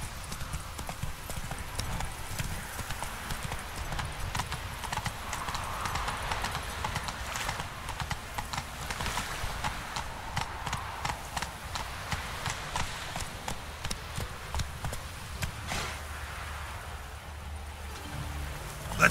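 Horse hooves clip-clop in a steady galloping rhythm across a 19-second stretch of The Witcher 3 video game, continuous and moderately loud with faint rain-like ambience beneath.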